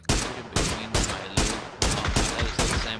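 PUBG gunfire at an esports group-stage match: a close, loud series of about eight evenly spaced shots, each a sharp crack with a decaying tail, with no talk over it.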